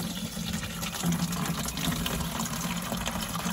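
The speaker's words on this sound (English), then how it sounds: "allow water to run in" Tap water runs steadily into a watering can, filling it as a continuous close gushing splash with no speech over it.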